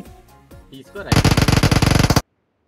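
Rapid automatic gunfire from the BGMI video game cuts in as a loud, close burst of about a dozen quick shots after a man's excited speech, then stops abruptly.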